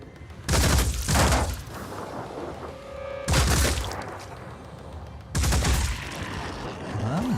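Automated defense turrets firing in a video game: three loud bursts of rapid gunfire, each lasting about a second, separated by stretches of low droning hum.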